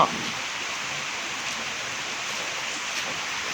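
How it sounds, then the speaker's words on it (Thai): Heavy rain pours down on a rainy day outdoors, a steady, even hiss of falling water that holds at a moderate level throughout, with no voices. "ทุกคนฝนตกแรงมากเลย"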